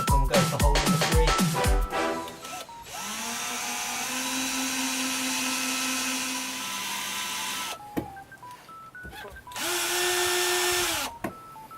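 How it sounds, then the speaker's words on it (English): A power drill bores a hole during a small camper van build, with several short bursts of whirring, a long sustained spin, and a final run, all close and loud with no speech. "I'll drill this second hole"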